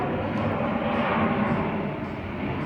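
A low-flying airliner with its landing gear down roars overhead on approach to Gimpo Airport, a loud, steady rumbling jet drone heard from a garden below.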